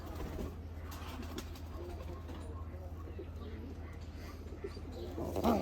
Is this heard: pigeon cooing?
yes